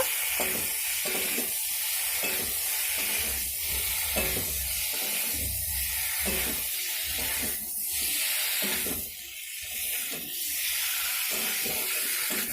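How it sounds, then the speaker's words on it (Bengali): Boiled potatoes being stirred and fried in a spice masala for a vegetarian aloo kosha, a continuous hissing sizzle broken by rhythmic scraping strokes of a spatula, close and steady with no voices. "সেটাকেই আমি এবারে এই মশলার মধ্যে দিয়ে একটু নাড়াচাড়া করে নেব"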